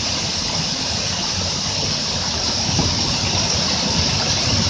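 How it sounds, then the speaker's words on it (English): Turket Creek waterfall pouring and splashing steadily while a man stands showering beneath it with onlookers nearby, a loud, continuous rushing roar close at hand. "That's Chris Graham showering in Turket Waterfall, Turket Creek Waterfall, with onlookers."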